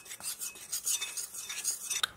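A utensil stirs bread flour, salt, sugar and yeast in a bowl, giving a steady run of light scraping and clinking strokes close by, with a sharper knock near the end.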